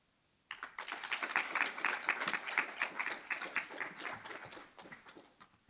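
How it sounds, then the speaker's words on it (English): Audience applause at a social genomics conference: a room of listeners breaks into brisk clapping after a moment of quiet and keeps it going, fairly even, before it starts to thin out. "let's give another round of applause to our first 4 Flash speakers"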